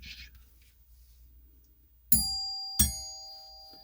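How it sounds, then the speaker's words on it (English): Two bright electronic chimes ring out in succession, a ding followed by a dong, each tone lingering and fading over a quiet room. "It's like a doorbell, right?"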